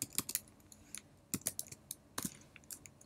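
Someone types a command into a terminal on a computer keyboard, producing quick, faint clusters of key clicks with short pauses between bursts.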